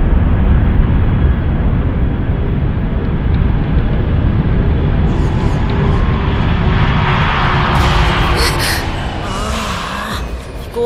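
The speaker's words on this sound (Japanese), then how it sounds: "飛行機行っちゃったよ。" A jet airplane roars past, loud at first and slowly fading away as it moves off, with a higher whine trailing near the end.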